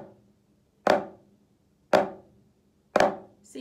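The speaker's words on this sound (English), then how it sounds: "your flam stroke should sound like this once you're done" Drumsticks play flam strokes, a quiet grace note just ahead of a stronger main hit, sounding as three sharp, close strikes spaced about a second apart, each with a quick decay into silence and no voices.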